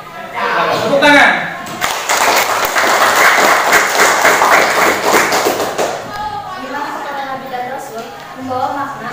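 Classroom applause from students, a burst of clapping lasting several seconds between stretches of a teacher's voice.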